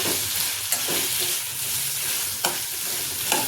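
Grated coconut is sautéed in a pan with already-fried ingredients for a kuzhambu: a continuous close frying hiss with a few sharp spatula scrapes spaced out across it, no voices.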